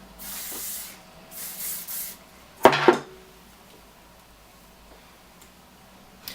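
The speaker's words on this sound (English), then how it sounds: "I'll spray some hairspray through that" A few short hissing bursts from a hairspray can, close by, sprayed through a backcomb brush, followed by a sharp clack and then near silence.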